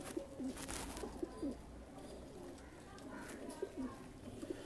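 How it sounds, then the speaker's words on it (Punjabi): Golden pigeons coo in repeated low, throaty phrases close by, the soft rolling calls recurring every second or so over a muffled, noisy background, with a voice faintly audible at times. "ਗੋਲਡਨ ਕਬੂਤਰ ਨੇ ਜੀ"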